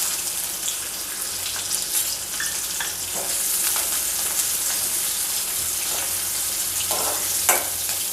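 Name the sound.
chopped onions frying in hot oil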